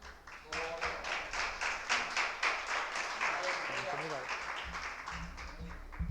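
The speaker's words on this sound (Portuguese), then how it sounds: "Aplauda o Senhor." A church congregation claps in a quick, steady rhythm, a dense burst of applause that continues for several seconds, with voices mixed in underneath.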